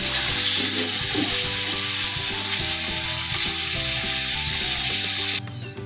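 Pork liver pieces frying in a pan, a loud, steady sizzle running throughout with occasional stirring scrapes, no talking, cutting off abruptly near the end.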